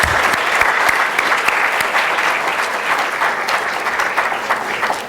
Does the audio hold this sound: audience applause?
yes